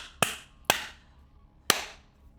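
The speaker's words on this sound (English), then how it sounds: "Hear me clap." Three sharp, loud hand claps, irregularly spaced, each ringing briefly in a quiet room.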